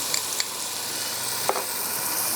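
Mustard seeds and fenugreek seeds sizzle in hot oil for a tadka, a soft, steady frying hiss with a few faint pops and light stirring clicks, no voices over it.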